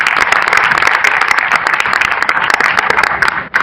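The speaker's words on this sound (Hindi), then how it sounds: "जितने भी हमारे परफॉर्मर्स थे उनके लिए क्लैपिंग कर दो आप जोरदार" Loud, close crowd applause at a stand-up comedy show, the audience clapping hard for the performers, with sharp individual claps standing out from a thick, continuous wash that dips briefly at the end.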